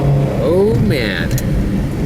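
A 1985 Mercury Lynx station wagon with a 1.9L engine accelerates on the road, steady engine drone and road rumble up close, with a person talking over it.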